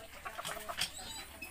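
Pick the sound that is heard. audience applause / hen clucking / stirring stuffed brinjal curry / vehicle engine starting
hen clucking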